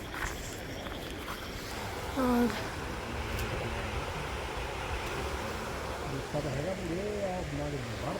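Floodwater rushes along beside a rain-soaked path, a steady wash of noise close by. Someone talks over it throughout, with occasional wind buffeting on the microphone.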